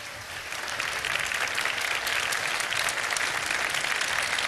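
A television studio audience bursts into applause for a presented chicken pulao dish, the clapping swelling in the first second and then holding as a loud, dense, continuous crowd of hands.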